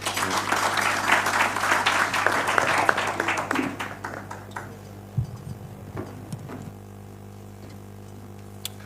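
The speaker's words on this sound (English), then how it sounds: "Another round of applause for the Honorable Pauli Omondi" Applause from a crowd at a political report launch in Kenya, dense and steady for about four seconds, then thinning to scattered claps and quiet room noise.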